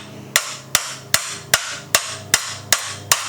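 A bearing is driven into a Project 450R frame with a hammer on a slightly smaller socket, eight sharp, evenly spaced metallic strikes about 0.4 seconds apart, close and loud.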